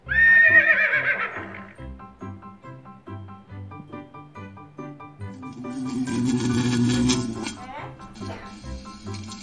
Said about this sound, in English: Horse lives in a stable.